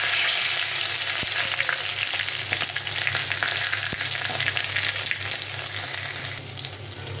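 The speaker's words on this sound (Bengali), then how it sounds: "এখানে একটু শুকনো লঙ্কা আর এখানে কিছুটা জিরে আর তেজপাতা ফোড়ন দিয়ে দেবো।" Dried chili, cumin and bay leaf temper in hot oil, giving a loud, dense, continuous sizzle with scattered crackles and pops, heard close up with no talking.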